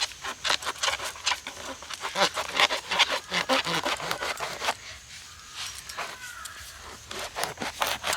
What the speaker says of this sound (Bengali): দা দিয়ে বা বটি দিয়ে এইভাবে কিন্তু কেটে নিতে হবে